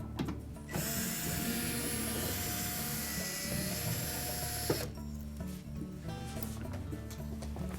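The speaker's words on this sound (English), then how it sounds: "We'll remove that. It's held in place with 1/4-inch hex head screws." A power driver whirs and ratchets as quarter-inch hex head screws are backed out of a Whirlpool refrigerator's rear cover, a sustained mechanical buzz with a brief pause partway and clicking handling afterward.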